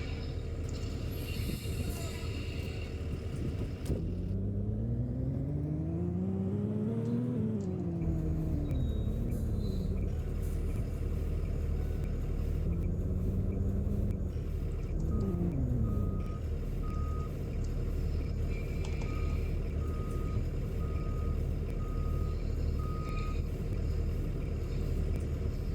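A vehicle idles with a steady low rumble throughout, with a rising and falling engine or motor tone and a repeating high electronic beep chiming in the later part.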